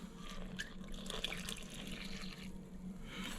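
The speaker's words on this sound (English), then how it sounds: "and we're going to add our water" Tap water runs steadily into a stand mixer bowl for bread dough, a soft continuous splashing stream that stays quiet and even throughout with no talking.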